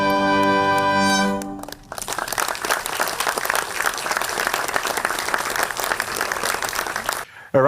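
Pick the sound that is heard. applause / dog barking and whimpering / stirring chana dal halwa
applause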